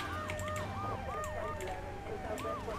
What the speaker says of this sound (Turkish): Bakın ambulans bana doğru geliyor.